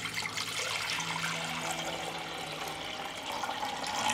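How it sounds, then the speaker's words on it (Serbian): A litre of cold water pours into a six-litre pressure cooker holding glass jars, a steady splashing rush that continues evenly at moderate loudness throughout. "u njega ću sipati litar hladne vode"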